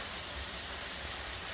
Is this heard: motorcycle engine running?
no